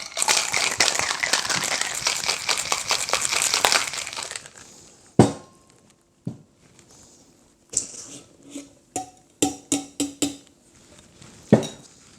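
An espresso martini with salt is shaken hard with plenty of ice: several seconds of rapid, rhythmic rattling and clatter, then a run of separate sharp clinks and knocks as the shaking stops.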